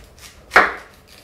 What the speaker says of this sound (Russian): Обрезаю все до кочерышки и складываю в кастрюлю.